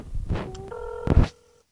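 Phone dialing in a video game set in Los Angeles: a few short electronic keypad tones beep in quick succession over background game noise, then fade to silence.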